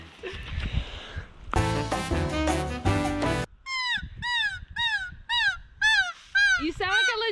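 A person imitates a bird call with a run of high, honking chirps. Several calls come in quick rhythmic bursts right after a stretch of lively talk.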